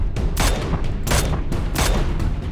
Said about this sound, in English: Oh, I shot him 3 times